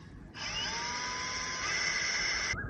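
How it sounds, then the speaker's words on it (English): A power drill whines steadily for about two seconds, rising slightly in pitch as it bores through plastic, then stops abruptly. Close and loud, no talking. "So slowly and firmly just drill the plastic out."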